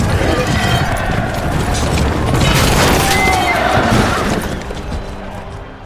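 A horse neighs loudly amid the dense clatter and rumble of a jousting match in a film, with crowd and armour noise packed around it throughout.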